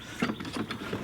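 A boat winch ratchet on a SeaDoo Switch JetDock clicks through a brief run of quick mechanical pawl ticks, close and fairly quiet, with no voices.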